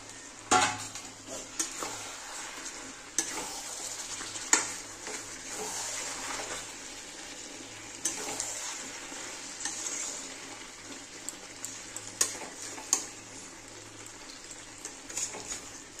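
Fried potatoes tipped into Bengali-style mutton kosha in a pan, giving a soft ongoing sizzle with repeated scraping stirs and occasional clanks of a spoon against metal, fairly quiet and steady, without speech.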